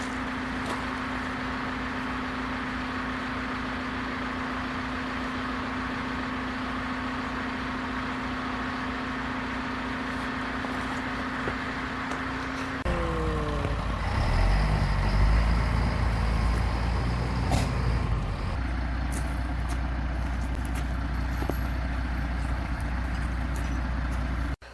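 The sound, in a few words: dump truck and Caterpillar machine working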